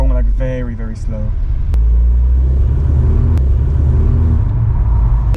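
A car fitted with an Alibaba valved exhaust rolls at very slow speed, giving a loud, close, continuous low rumble and vibration, with a few sharp clicks; people talk briefly at the start.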